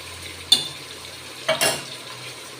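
Ginger and garlic sauté in a pan for a goat lung stir-fry, giving a soft steady sizzle broken by two sharp clatters of a spoon stirring against the metal.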